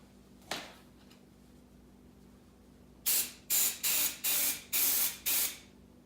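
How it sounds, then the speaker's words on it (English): Six short, loud bursts of hiss from a Preval vFan airbrush spraying a leather seat, in a steady rhythm, preceded by one fainter puff, with quiet gaps between them. "I'm going to do a couple test sprays"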